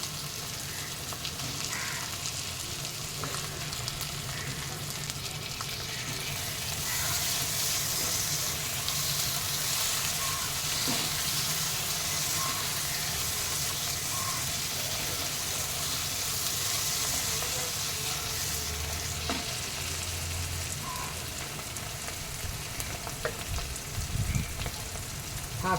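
Prawns frying in masala in a pan, a steady loud sizzle running throughout with occasional stirring scrapes and clicks, no voices.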